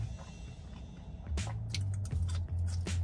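Crisp crunching bites into hot, fresh Popeyes fries, several close, sharp crunches over a low background hum with no talk.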